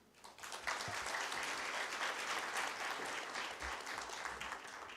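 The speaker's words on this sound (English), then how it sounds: "Can we have a round of applause again for Her Excellency" Audience applause at a business forum between the EU and Nepal, a steady dense wash of clapping that swells quickly and holds at an even level for several seconds.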